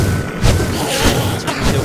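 Heavy booming blasts from a cannon in a Minecraft Super Mario Bros. parkour map, with several thuds in quick succession over a dense, noisy game soundscape.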